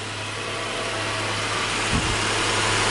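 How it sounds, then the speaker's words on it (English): A JDM Subaru EZ30R flat-six engine idles shortly after its first start, heard from outside the car as a quiet, steady low hum with a faint thump near the end. "And now, even from outside, it sounds fairly quiet."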